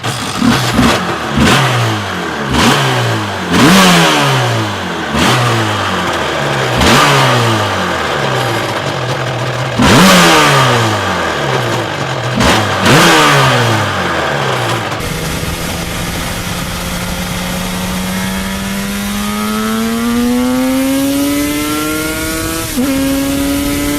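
A Yamaha four-cylinder two-stroke motorcycle engine with power valves and oil injection, revved hard in a rapid series of loud, sharp blips, then held in one long rising pull near and loud.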